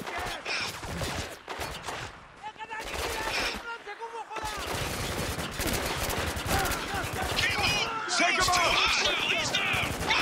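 Bursts of weak gunfire in the Spec Ops: The Line shooter game, with repeated rapid shots and clattering impacts across a busy battle soundscape, with speech mixed in at times.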